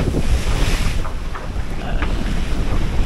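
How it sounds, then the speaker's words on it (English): A catamaran beats upwind in wind and waves, with loud gusty wind buffeting the microphone over rushing water and splashing waves, continuous and close. "this is what beating up wind on an 8-inch catamaran looks like"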